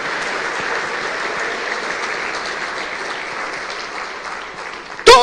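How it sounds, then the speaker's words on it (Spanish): A church congregation applauds steadily for several seconds, a dense, even patter of many hands, ending with a loud burst of voice at the close. "Dale un fuerte aplauso y alábele con todo su corazón"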